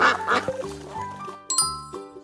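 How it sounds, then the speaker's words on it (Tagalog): A duck quacks in a farm-animal guessing game, sounding as a few loud nasal calls over a soft background chime, with no talking. "Duck."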